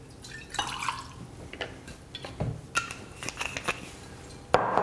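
Rye whiskey, two ounces, is poured into a Monte Carlo cocktail with Benedictine. Quiet irregular drips and splashes mix with small glassy clicks, and a sharper clink comes near the end, with no speech.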